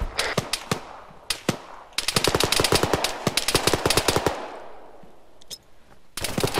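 Machine gun fire in the military shooter Arma 3, loud close bursts of rapid shots in several strings with brief pauses between, no talking.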